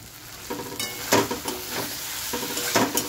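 Masala paste sizzling in a kadai while being stirred, steady frying hiss punctuated by rhythmic scraping strokes of a spatula against the pan, close and fairly loud, no talking.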